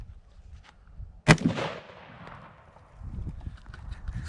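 A single loud, close AR-15 rifle shot cracks out and rings with a short decaying echo, framed by quiet outdoor rumble before and after.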